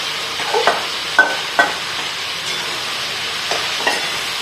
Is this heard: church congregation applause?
no